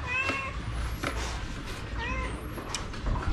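A cat meows repeatedly near the microphone, several wavering, drawn-out cries in quick succession over a low background rumble.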